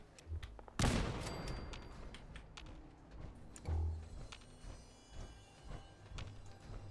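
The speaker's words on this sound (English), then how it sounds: "Sneak grenade." Grenade blast in the video game Fallout 4: one sharp, loud burst early on with a ringing tail, followed by a second thudding impact and a few quieter clatters and bangs.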